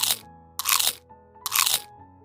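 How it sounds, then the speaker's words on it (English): A panda eating bamboo in a forest, giving three loud, close, sharp crunches spaced about evenly apart, with quiet pauses of chewing between them. "a panda sat peacefully eating bamboo."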